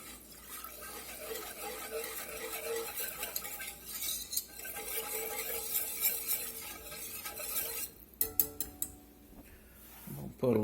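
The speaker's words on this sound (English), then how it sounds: "Get this all whisked up pretty good." Milk being whisked in a hot pan for bacon potatoes au gratin, a light continuous stirring and scraping over a faint sizzle, then sharper utensil clinks against the pan near the end.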